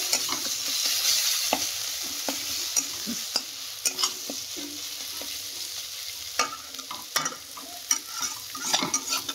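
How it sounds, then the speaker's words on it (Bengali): Chilli masala of dried, green and ground chilli frying and being stirred for prawn malai curry made with milk, a bright steady sizzle broken by frequent spatula scrapes and taps against the pan. "আবার একটুখানি নাড়িয়ে চাড়িয়ে কষতে দেবো।"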